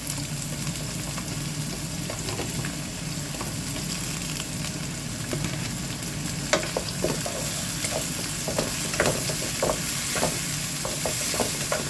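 Bell pepper and chopped tomato fry with onion in a pan for Filipino-style spaghetti, a loud constant sizzle broken by scattered clicks and scrapes of stirring.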